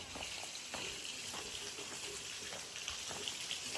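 Water runs out under pressure and goes to waste, a faint steady hiss and splash like an open tap, with a few soft knocks and drips scattered through it.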